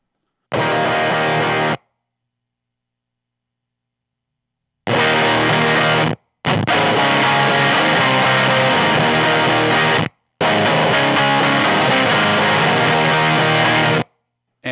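High-gain distorted electric guitar through a Glaive pedal with its gate in the most aggressive squelch-up position, bursts of loud crunchy chords chopped off abruptly into dead silence between phrases, near and dense.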